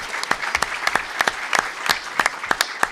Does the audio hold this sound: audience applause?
yes